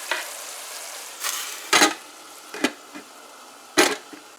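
Chicken and bora curry cooking in a covered pot, with a soft, steady sizzle broken by a few sharp, brief clinks and scrapes.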